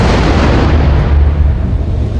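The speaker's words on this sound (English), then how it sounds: "the explosion happens inside of this cylinder, gets funneled, and then directed through this tube" Explosion funneled through a cylinder and directed out a tube, a loud, sustained roaring blast with a broad rumbling body lasting about two seconds.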